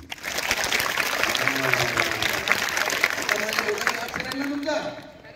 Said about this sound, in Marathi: हे खाली गेलं की टाळ्या वाजवायच्या.